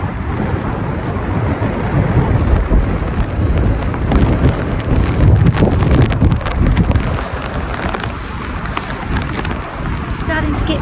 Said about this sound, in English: The rain and wind in my face